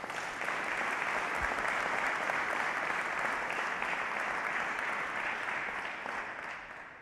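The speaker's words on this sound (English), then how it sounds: "let's give our friends and families a round of applause" A crowd at an Army ROTC commissioning ceremony gives friends and families a round of applause: dense, steady clapping from many hands that carries on for about seven seconds and eases off slightly at the end, with no talk.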